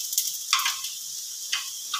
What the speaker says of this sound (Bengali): শুকনো লঙ্কাটা ভালো করে ভাজা হয়ে যাওয়ার পরে দিয়ে দিচ্ছি 5 ফোড়ন